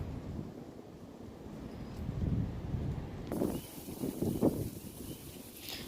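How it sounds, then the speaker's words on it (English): Wind gusting through wild grass along a pre-spring walking trail, a steady rushing buffet against the microphone that swells in a few stronger gusts, with no talk. "Those are wild grass, and as you can see, the wind is blowing it like crazy"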